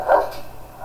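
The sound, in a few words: dog barking at a dog rescue centre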